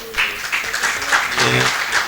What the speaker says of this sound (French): Je pense qu'on n'a pas assez applaudi pour la professeure